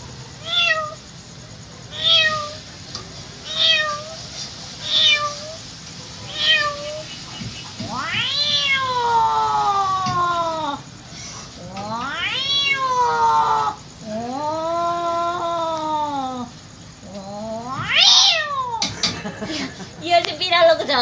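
A girl mimics a cat meowing with her voice: several short, evenly spaced mews, then longer, wavering, drawn-out meows, close and loud.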